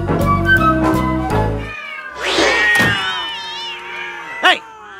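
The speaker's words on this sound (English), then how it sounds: "You're making all my cats angry. That's why they're hissing." Several cats meow and yowl in an agitated way, with harmonic cries rising and falling, a sharp thump near the end, and a low music-like tone bed at the start, in a comedic cartoon scene.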